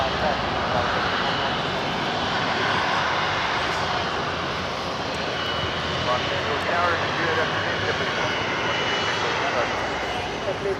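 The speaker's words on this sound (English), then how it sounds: "A330-300 going all the way to Lima." A converted Airbus A330-300 taxiing at LAX, its engine roar a steady, broad wash that holds at an even level throughout with no breaks, while a voice talks over it.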